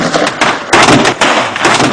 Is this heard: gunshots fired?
yes